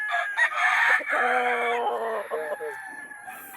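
A gamecock rooster of the Maclean Hatch line crows once, loud and close, a long strained call that trails off, with a bit of clucking near the end.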